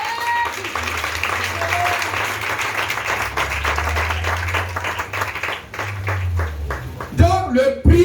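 A church congregation claps in loud, sustained applause, a dense crackle of many hands with a low background hum, ending in a few louder bursts and voices.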